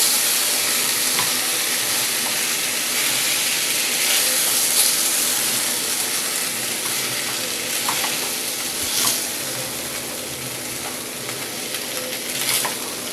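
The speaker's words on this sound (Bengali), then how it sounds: "আঁচটাকে একটু লো ফ্লেমে রাখবো রেখে এটাকে ভালো করে রান্না করে নিতে হবে" A sabudana dish cooks in a pan on a low flame, giving an even, continuous sizzle throughout with occasional faint stirring scrapes.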